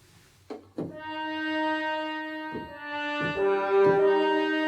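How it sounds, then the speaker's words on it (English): A sustained French horn tone swells and holds in an orchestral film score passage, with deep percussive hits landing at intervals beneath it. "You'll hear that there's a French horn in there."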